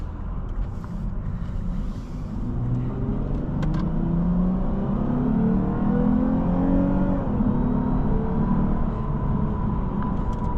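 A 2022 Lexus IS 350 F Sport's 3.5-liter V6 hums steadily, then swells as it accelerates, its pitch rising through the gears over about ten seconds with no talking.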